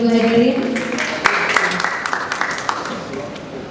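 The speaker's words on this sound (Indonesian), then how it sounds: "Kita berikan tepuk tangan sekali lagi yang meriah Bapak dan Ibu hadirin." Audience applause at an anniversary award ceremony for an Indonesian news outlet, scattered claps building into a crowd round after a voice over the sound system fades.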